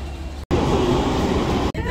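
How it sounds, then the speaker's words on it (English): An Istanbul metro train between Sirkeci and Üsküdar gives a steady rumbling ride noise heard from inside the car, broken by two brief abrupt cuts. "Gonna take the metro from Sirkeci to Üsküdar"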